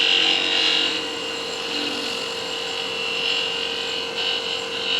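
A wood lathe spins a piece of salvaged wood being turned into a tool handle, giving a steady whirring hum with faint scraping, then winding down.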